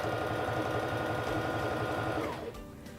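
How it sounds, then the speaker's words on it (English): A SINGER Fashion Mate 3342 sewing machine stitches scrap fabric with a fast, steady mechanical hum and rapid needle chatter, close and loud, then winds down and stops near the end. "I'm going to begin sewing by pressing on the foot control."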